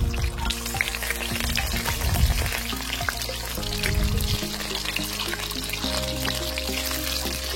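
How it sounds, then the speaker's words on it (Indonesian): Peeled boiled chicken eggs frying in hot oil until browned give a loud, steady, dense sizzle and crackle close up, with occasional clinks and stirring noises throughout. "Goreng telur ayamnya hingga kecoklatan."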